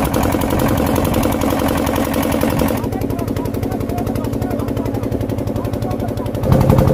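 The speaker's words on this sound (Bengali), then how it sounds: "তো এখন এখান থেকে আমরা নৌকা পারাপার করব।" A trawler boat's engine chugs while crossing the Chenai river toward Mousuni Island, making a loud, close, rapid rhythmic knocking that continues throughout and grows louder at the end.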